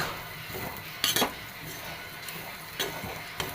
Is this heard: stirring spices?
yes